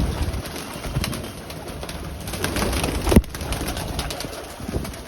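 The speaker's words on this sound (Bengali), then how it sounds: "দেখুন একটু কবুতর গুলা" Pigeons on a rooftop pigeon farm cooing in low, rolling calls that overlap continuously, fairly close, with a brief louder flutter or knock partway through and no speech.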